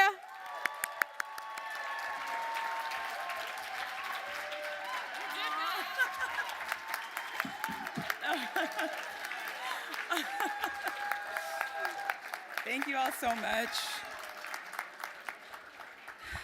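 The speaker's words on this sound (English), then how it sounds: "Please give a round of applause for my girl, my classmate, Dr. Ivy." Applause from an awards ceremony audience at a gala ball, sustained crowd clapping with scattered whoops, before a woman near the microphone begins speaking her thanks over the tail of it.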